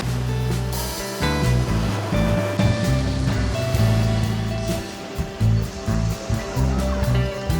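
Sea waves break on a beach in Odesa, a loud, continuous surf with repeated crashing swells rolling in close by.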